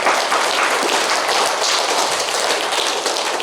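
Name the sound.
church congregation applauding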